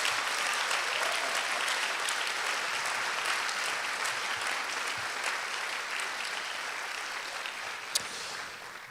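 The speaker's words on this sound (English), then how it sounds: "please join me in a round of applause for their commitment and their dedication" An audience at a high school senior awards ceremony breaks into a sustained round of applause, a dense wash of clapping that holds steady, then slowly thins toward the end, with one sharp louder clap near the close.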